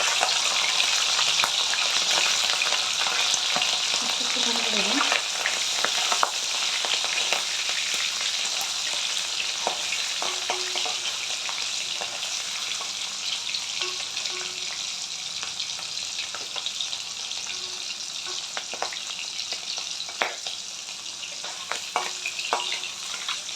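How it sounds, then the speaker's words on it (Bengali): Prawns fry in hot oil with a sustained bubbling sizzle and occasional stirring clicks, with no voices. "তেলটা আমার গরম হয়ে গেছে। এরপর আমি দেবো এর মধ্যে কিছু প্রন"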